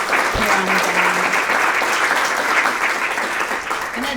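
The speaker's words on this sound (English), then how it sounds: "So if we could give them a round of applause for all their efforts here on the Bay." Audience applause at a community speaker event about eelgrass and the Great South Bay, a steady, dense round of clapping filling the room for about four seconds, with a brief low voice-like tone near the start.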